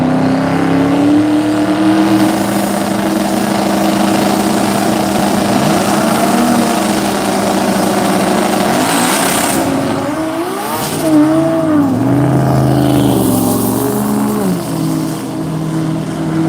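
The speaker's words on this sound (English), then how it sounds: "Both cars just spinning there. Definitely trying to give it a decent run on the launch, but they both spun." Race cars launching in a qualifying event spin their wheels as loud engines roar continuously, the pitch rising and sliding as they try to grip.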